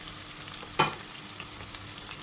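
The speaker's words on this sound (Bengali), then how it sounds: "এখন আমি টমেটোগুলো দিয়ে দিচ্ছি।" Chopped tomatoes drop into a pan of onions and green chillies frying in oil, giving one sharp burst of sizzle that then settles into a soft, steady fry, heard alone and fairly faint.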